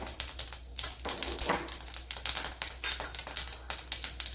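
A quarter teaspoon of cumin seeds spits in hot oil, making a dense, quiet run of rapid crackling pops and spatters that continue steadily.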